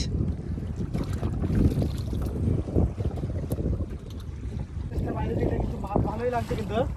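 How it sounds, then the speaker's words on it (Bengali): Strong gusting wind buffets the microphone on a small fishing boat out on the water, a steady roaring rumble with slapping water and faint voices mixed in underneath. "হাওয়াও তো সেই লেভেলের হাওয়া হচ্ছে এখানে"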